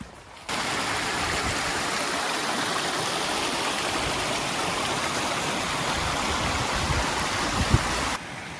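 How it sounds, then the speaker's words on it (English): A mountain stream on the Ben Ledi walk in the Scottish Highlands rushes in a steady, broadband wash of flowing water, close and continuous. "that's why it's the stream going all the way down."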